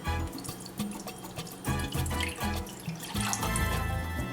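Water runs steadily into a pot for cooking oatmeal, about one cup poured in a continuous splashing stream with gurgling near the mic.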